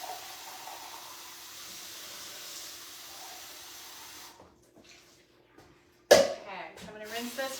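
Canned black beans are rinsed under a running kitchen sink tap, a steady moderate water hiss for about four seconds that stops before a short burst of nearby talk.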